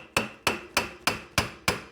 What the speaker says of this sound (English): So we'll just take a hammer, hit on it.